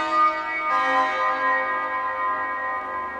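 Massive church bells ring out loudly, two heavy struck tones close together whose rich ringing overtones hang and slowly fade.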